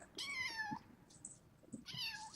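A kitten meows twice, high and clear with strong harmonics, each cry lasting about half a second, close and loud with a short gap between.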